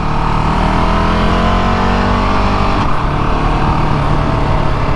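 A KTM 690 SMCR single-cylinder motorcycle is ridden slowly through U-turns, its engine a loud, steady, close rumble with faint wind noise and no speech.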